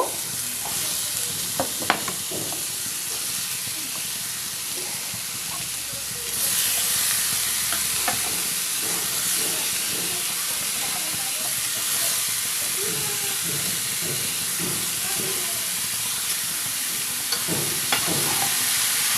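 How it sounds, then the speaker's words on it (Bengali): Sliced button mushrooms go into a cooked spice masala in a pan, and a loud sizzle and hiss swells partway through and then keeps going, with scattered stirring clatter and faint talk underneath. "এবার আমি এখানে যে বটম মাশরুমগুলো কেটে রেখেছিলাম এর ভেতর এবার অ্যাড করব।"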